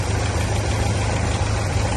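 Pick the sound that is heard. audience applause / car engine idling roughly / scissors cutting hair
car engine idling roughly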